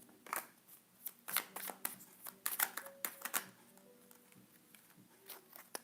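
Tarot cards being shuffled close by: rapid papery riffles and slaps in quick bursts, with small taps between them and no talking.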